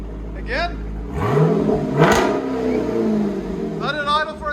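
A 2022 Dodge Durango SRT 392 with a 6.4L HEMI V8 and Borla ATAK cat-back dual exhaust revs hard, its engine rising and falling twice nearby, with a voice talking over it.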